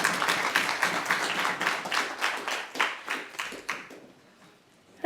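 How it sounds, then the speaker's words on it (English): Applause for a speaker at an academic prestige lecture, a moderate group of hands clapping in a clearly pulsing rhythm that thins and dies away toward the end. "please put a round of applause for our speaker"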